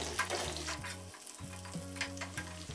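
Potato chivda frying in a pan, given a stir: continuous soft sizzling with a few scraping strokes and a low mechanical hum running underneath, no voices.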